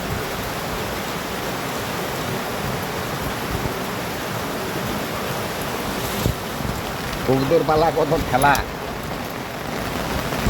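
Heavy rain pours down in a dense, steady hiss on a rainy day while pigeons are being fed, continuous throughout, with someone speaking briefly near the end over the downpour.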